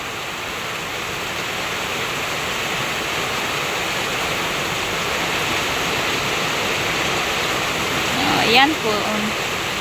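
Rainwater dripping fast during rainy weather, heard as a dense, constant hiss of falling water that stays loud throughout, with a brief spoken voice near the end.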